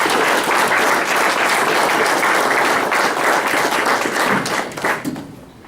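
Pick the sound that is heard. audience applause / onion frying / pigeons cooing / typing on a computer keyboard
audience applause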